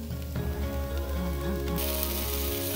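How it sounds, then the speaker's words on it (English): Leeks sizzle and fry steadily in a pot for a lamb pot pie, a continuous close crackling hiss under a low steady hum. "we're going to fry that off for a good couple of minutes"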